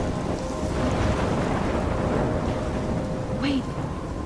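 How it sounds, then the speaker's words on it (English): A thunderstorm in the video game Life is Strange gives a steady loud roar of rain and wind with a low rumble of thunder throughout, alone with no talking. "I'm trapped in a storm?"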